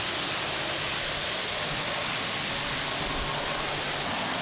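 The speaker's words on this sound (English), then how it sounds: "Full rinse from the top, water cascading down the whole body." A steady rush of spraying water rinsing a muddy Mercedes car body, constant and broadband like a hose washing down a surface, with no voices.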